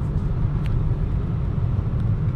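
A car driving along a road near Tauranga, New Zealand, heard from inside as a steady low rumble of engine and tyre noise with no talk.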